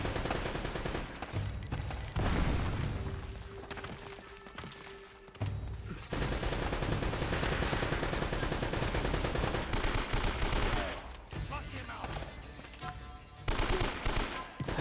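Gunfire and explosions in the video game Uncharted: Drake's Fortune, dense bursts of automatic fire and loud booming blasts that keep returning across the whole stretch, with a short lull midway.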